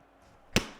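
A single sharp slap swatting a mosquito lands as one close, crisp smack in an otherwise quiet room, fading quickly.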